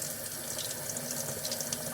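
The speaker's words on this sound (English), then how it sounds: "You want cold tap water" Cold tap water runs steadily from a faucet over a burn injury, a continuous close splashing hiss with no voices.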